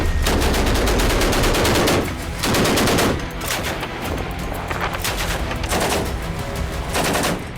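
Russian naval guns firing live at sea, a loud dense barrage of rapid repeated blasts in several bursts with brief lulls, close and continuous.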